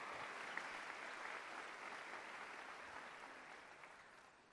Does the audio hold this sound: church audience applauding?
yes